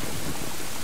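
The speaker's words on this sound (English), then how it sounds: "Out in the middle of nowhere in the rain?" Steady, dense rain falls in the Ocarina of Time Master Quest video game, a constant hiss with no breaks.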